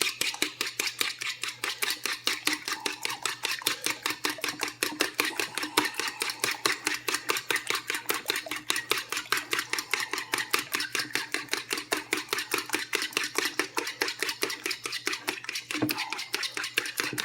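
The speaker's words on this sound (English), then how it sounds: "we'll beat up some eggs and get ready" Eggs beaten by hand in a bowl, a fast, steady rhythmic clatter of utensil strikes against the bowl, close and continuous for the whole stretch, with no talking, for a tomato, Canadian bacon and cheese omelet.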